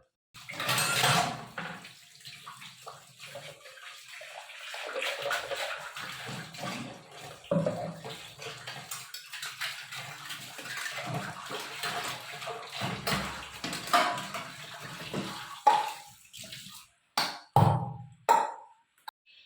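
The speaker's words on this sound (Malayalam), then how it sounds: "കുറച്ച് പാത്രമൊക്കെ കഴുകി വെക്കാനുണ്ട്" Water splashes and runs in bursts while dishes clink and clatter close by, with quiet pauses between rinses and a few sharp metallic knocks.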